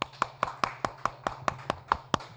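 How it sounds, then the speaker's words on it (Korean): Group clapping in unison in a classroom lesson on 3D CAD software: about a dozen sharp, evenly spaced claps in a steady rhythm, close and clear, with no talk. "다 같이 박수."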